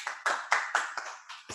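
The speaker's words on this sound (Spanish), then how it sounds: "Un gran aplauso para usted." A small online audience claps for Dr. Luis Gamero Oviedo after a remote training session, six or seven distinct, moderately loud claps in an uneven rhythm.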